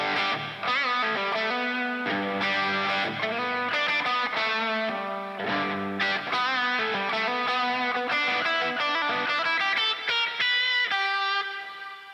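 Distorted electric guitar playing a continuous melodic solo line that lands on chord tones such as the third over backing chords, loud and sustained throughout with no talking.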